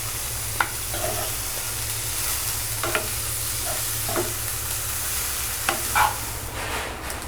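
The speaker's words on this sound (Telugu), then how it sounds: "ఇదిగోండి, చక్కగా వేగింది ఇది." Ridge gourd peel, dried coconut, sesame seeds and tomato pieces fry in a pan with a steady, close sizzle, broken by a few sharp scraping stirs of the spatula; no one speaks.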